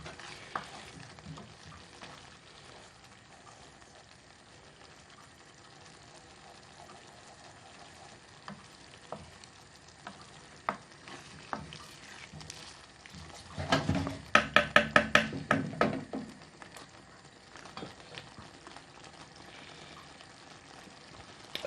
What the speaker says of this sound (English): Bring that to the boil. And then we're going to add our knob of butter. Not too much. Melt that in for added flavour and sheen